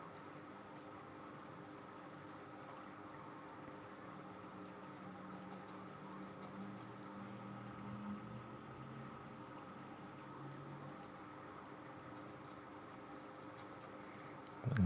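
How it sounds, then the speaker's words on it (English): Pencil strokes scratch softly on toned paper, a faint, continuous rasp of close, quiet drawing with no voices. "So all I'm doing when I'm making these strokes, I'm just sort of pulling a little bit of a pull stroke"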